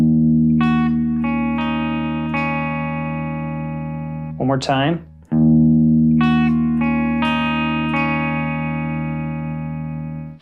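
Electric guitar with effects plays a sustained, ringing picked passage from a song, broken midway by a brief spoken phrase before the chords resume and ring out.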